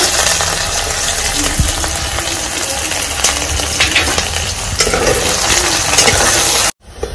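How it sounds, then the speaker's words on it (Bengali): Sliced onions frying in hot oil in a pan, a steady, close sizzle with faint stirring and scraping that continues throughout before cutting off abruptly near the end. "পেঁয়াজটাকে হালকা বাদামি করে ভেজে দিব।"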